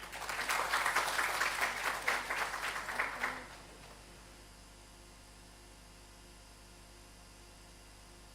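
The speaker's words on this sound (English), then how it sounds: "a big round of applause for Major Madan Kumar" Applause from a conference audience for Major Madan Kumar, a burst of crowd clapping at moderate loudness that stops abruptly after about three seconds, leaving a quiet room hum.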